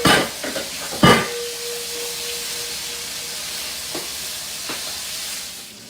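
Softshell crabs dropped into hot oil, a couple of sharp clanks and splashes followed by a steady close hiss and sizzle that continues with a few light knocks, no talk.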